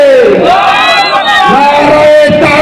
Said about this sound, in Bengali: একটু তাকবীর দিতে পারবেন না?